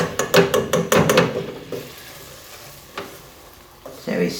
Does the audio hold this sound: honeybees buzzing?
no